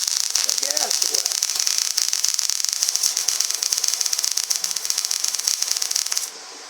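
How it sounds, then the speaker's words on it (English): A gas-shielded welding arc on a vise stand build, outdoors in the wind: a steady, close crackling hiss that runs for about six seconds, then cuts off abruptly. "Nice little weld, nice and hot."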